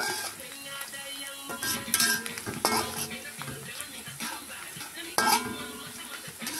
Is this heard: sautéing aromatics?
yes